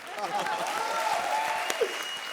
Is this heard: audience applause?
yes